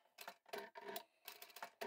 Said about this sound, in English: I'll start off by sewing this little tab closed and we'll just sew right down both long edges